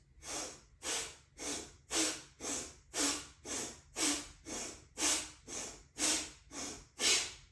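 Forceful, active breathing during a joint warm-up routine: about a dozen strong, evenly spaced breath bursts in steady rhythm, close and loud, with no talking.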